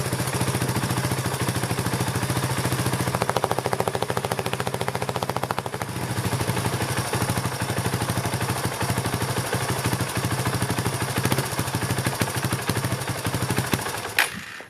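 A Suzuki DR350SE motorcycle engine warming up at idle after a carburetor rebuild, with a loud, close, rapid single-cylinder thumping that keeps an even rhythm throughout before cutting off at the end.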